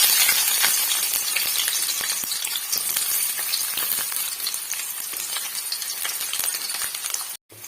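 Onion and curry leaves fry in a hot pan with a steady, dense sizzle and crackle throughout, broken by light spoon clinks against the pan, close up and with no talking, before a sudden brief cut near the end.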